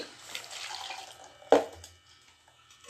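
Water poured into a pressure cooker while steamed rice batter is prepared, a soft running splash for about a second and a half followed by a sharp burst as the stream hits, then quieter trickling.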